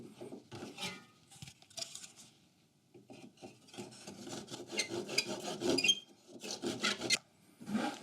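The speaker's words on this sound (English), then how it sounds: "now what's ever left, you just use a handsaw to finish the cut itself" A handsaw finishing a cut through scrap wood, with close rasping back-and-forth strokes in uneven bursts that speed up and grow louder toward the end, and no talking.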